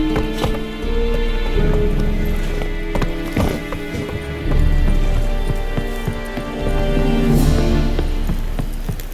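A horse gallops in the video game The Witcher 3: Wild Hunt, with steady, rhythmic hoofbeats over game ambience that run continuously and are heard close and fairly loud.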